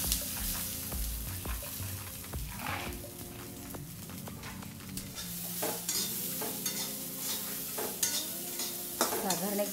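Moth beans dry-roast in a hot kadhai as a spatula stirs and scrapes them in repeated close, gritty strokes over a faint sizzle.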